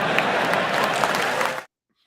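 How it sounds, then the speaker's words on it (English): Studio audience applauding loudly and steadily in a broadcast setting, a dense wash of clapping that cuts off abruptly partway through. "That applause continues."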